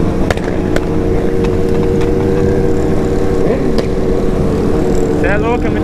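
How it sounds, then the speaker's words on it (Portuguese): Remapped sport motorcycles roar through a night ride, a dense continuous engine drone with sharp bursts near the end as one bangs against the rev limiter, loud and close with people talking over it. "O cara cortando o giro, velho."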